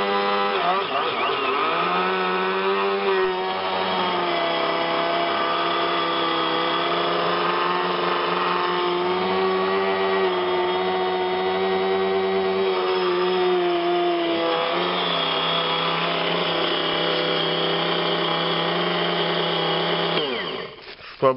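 An electric motor from an old meat grinder grinds sugar into powdered sugar for bee candy, giving a loud, steady whine that drones continuously for about twenty seconds and then cuts off at the end.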